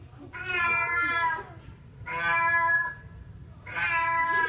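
Three long, loud harmonic meows from a house cat, evenly spaced and close, over a low steady hum in a domestic setting near a bathtub.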